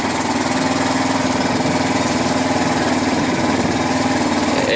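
A 1999 Kawasaki Bayou 220 ATV engine idling after a choked cold start: a loud, close, steady single-cylinder putter with an even, unbroken rhythm and no talking.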